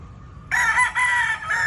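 A golden boy gamefowl rooster on a farm on a rainy afternoon gives a single loud, close crow, a bright drawn-out call over faint low background noise.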